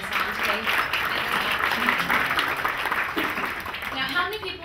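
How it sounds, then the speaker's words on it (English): An audience at a bridal show presentation applauds, with sustained clapping mixed with a presenter's voice and crowd murmur, fading toward the end. "So give them a big round of applause."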